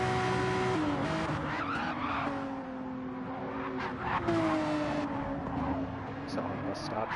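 Race car tires squealing in Gran Turismo 7 at Watkins Glen during a Gr3 race, a sustained tonal screech that glides up and down over steady engine drone, with a voice talking over it.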